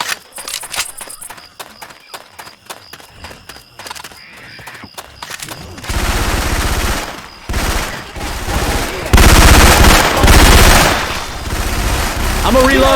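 Syphon Filter weapon sounds firing in Left 4 Dead 2: scattered single shots and clicks at first, then loud, dense bursts of sustained automatic gunfire with short gaps between.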